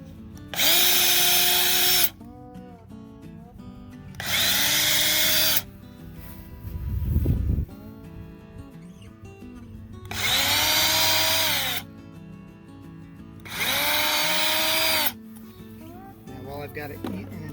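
A power drill bores screw holes in the boards of a wooden raised garden bed, with four loud, steady whirring bursts of about two seconds each, separated by pauses filled with handling noise.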